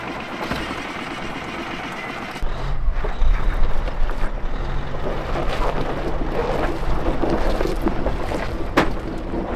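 A nitrous-injected off-road wrecker truck engine fires up, and a deep, loud rumble suddenly swells partway in, then keeps running steadily and close.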